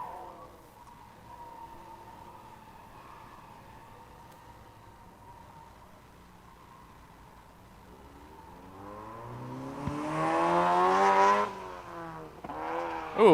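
A Subaru BRZ race car at a test-and-tune track session is heard at a distance, its engine tone rising and then growing loud as it revs hard and accelerates near the end.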